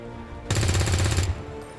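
A burst of rapid automatic gunfire in the video game XCOM 2, a single sharp rattle of quick shots lasting under a second, loud and close against quiet surroundings.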